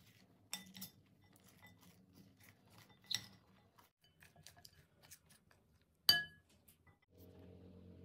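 Utensils clink and scrape against a bowl while pakora ingredients, chopped dill, minced garlic and ginger, are mixed, a few sharp metallic taps and soft rubbing scattered among quiet stretches.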